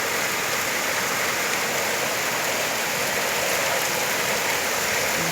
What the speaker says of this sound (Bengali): বৃষ্টি বৃষ্টি বৃষ্টি